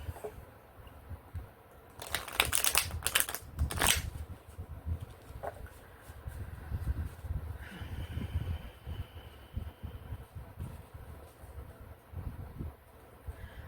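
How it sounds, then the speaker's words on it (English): Tarot cards being shuffled by hand up close, a quick flurry of papery riffles followed by steady soft rustling and sliding of the deck. "I just started shuffling them like this"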